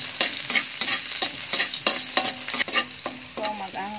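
Garlic sautés in a little oil for pancit, a close, lively sizzle broken by repeated scraping strokes of a spatula stirring the pan in a steady rhythm.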